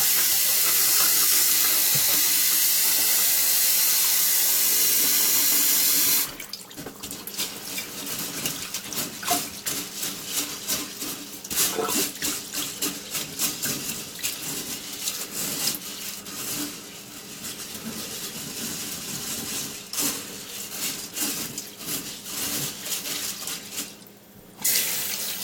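Sushi rice being rinsed in water at a sink, a loud running tap at first, then a busy scratchy swishing and rubbing of grains in water with wet splashes throughout.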